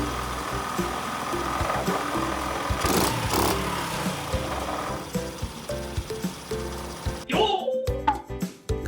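50cc motorcycle engine running smoothly, a rattly mechanical idle with clattering resonance from loose parts and horn, steady and close, then a sharp drop into uneven revving bursts near the end.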